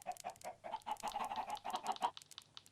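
Chickens clucking in a Minecraft Bedrock farm, a rapid run of short, nasal, game-style clucks and squawks repeating closely and fairly loud for a few seconds, with no talk.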